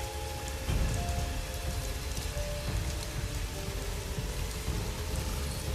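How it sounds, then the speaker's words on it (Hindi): Heavy rain pours steadily on hard surfaces, a dense continuous hiss and patter, close and loud throughout with no pauses. "बारिश पहले के मुकाबले बहुत तेज हो चुकी थी।"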